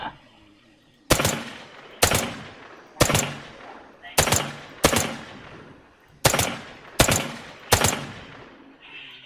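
A short gun fired in the zombie shooter Outlawz: nine sharp, loud shots spaced about a second apart, some in close pairs, each decaying quickly into a quiet background.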